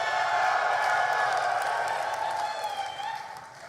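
A large QuakeCon esports crowd at the Quake World Championship grand final cheering and clapping in a sustained loud roar that fades toward the end, with a voice audible over it.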